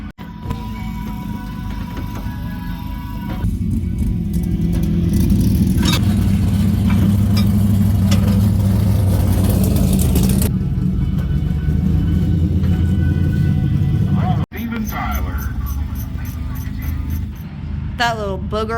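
A Chevy's engine runs close by during a test drive after drive shaft repair work, its low rumble swelling and holding steady before a sudden thump and a quieter idle, with a voice speaking briefly.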